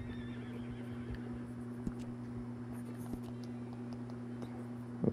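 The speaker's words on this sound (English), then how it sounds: "Whoa, I was controlling my horse." Horse in the Red Dead Online video game, a steady in-game tone with a few soft hoof thuds and a sharper sound near the end, with no talking.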